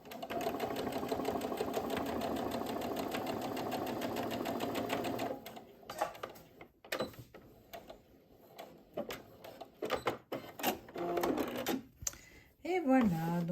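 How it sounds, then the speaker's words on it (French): A sewing machine runs steadily for about five seconds, stitching a 5 mm seam on a three-zip fabric pouch. Afterwards come scattered handling noises, rustling and brief talk. "je vais quand même refaire une couture ici pour être sûr que la pièce tienne bien"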